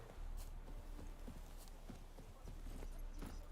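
Roach, the horse in The Witcher 3: Wild Hunt next-gen edition on PlayStation 5, moves along with steady, rhythmic hoofbeats clopping close by over a low in-game ambient rumble.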